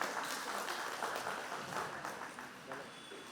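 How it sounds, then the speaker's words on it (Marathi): An audience claps for prize winners at a prize-giving event, a faint, fairly distant, even patter of many hands that carries on throughout with a little talk mixed in. "सगळ्यांनी जोरदार टाळ्या वाजवून अभिनंदन करायचं आहे"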